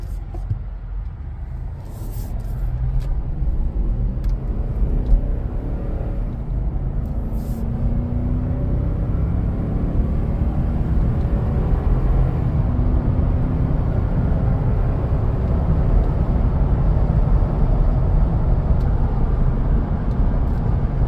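A Toyota Land Cruiser 200 pulls away and cruises on a road, a steady low engine and tyre rumble with road noise rising slightly after the first couple of seconds and holding even throughout, with no speech.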